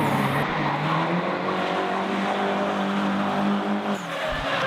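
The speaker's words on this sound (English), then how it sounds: "Gaston flicks the Nissan back and forth, managing through the infield" A Nissan drift car slides back and forth through the infield at a drift competition, engine roaring loud and sustained with tire squeal, the noise holding steady before a brief dip near the end.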